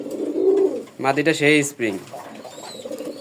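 Low, throaty cooing from cross-bred pigeons in a fancier's collection, heard close at the start and again in the background while someone talks over the middle.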